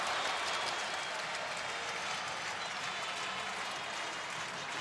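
A college hockey crowd rises and applauds as North Dakota beats the Alaska Seawolves 3-1, a dense, sustained wash of clapping and cheering from a large arena audience, loud and continuous.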